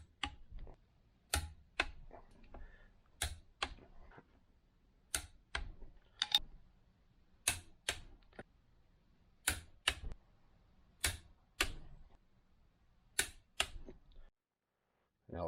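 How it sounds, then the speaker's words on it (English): Torque wrench clicks while engine bolts are tightened in a cross pattern on a 2005 Suzuki RM-Z450 during an engine rebuild, about a dozen sharp isolated snaps spaced roughly a second apart against near silence. "What we want to do is torque these in a cross pattern."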